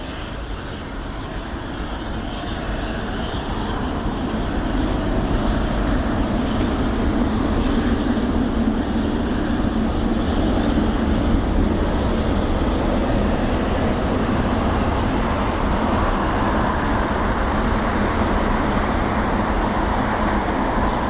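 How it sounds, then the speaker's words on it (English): An Air Canada Boeing 777-300ER departing from Heathrow's runway 27 left gives a broad jet roar that swells over the first few seconds and then holds steady and strong, heard from a distance with no voices. "So the Air Canada 777-300ER also heading over to runway"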